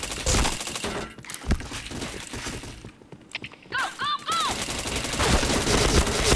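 Gunfire in a shooter video game: dense bursts of rapid automatic shots close and loud, broken by a brief quieter gap, then resuming heavily over game effects.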